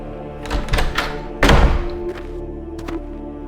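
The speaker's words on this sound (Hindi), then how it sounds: "दरवाजा तोड़ो ये।" In a Hindi cartoon story, soldiers batter down a door: several heavy, booming thuds, the loudest in the middle, followed by a couple of lighter knocks, with no talking.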